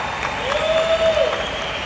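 Audience applause at a live athletes' performance panel, a steady wash of clapping from a crowd, moderately loud and continuous through the moment, with a faint tonal squeak briefly riding over it.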